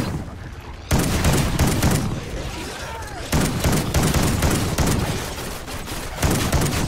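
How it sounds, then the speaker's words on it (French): Pump shotgun firing in Call of Duty: Ghosts Extinction on Xbox 360, several loud close blasts spaced a couple of seconds apart amid continuous gameplay noise, with someone talking over it. "Je trouve pas très efficace ce fusil à pompe et il a très bonne munition"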